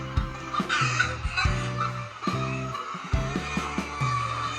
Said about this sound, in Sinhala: මේ වගේ කුකුල්ලු විශාල ප්‍රමාණයක් කූඩු කීපයකම දාලා ඉන්නවා.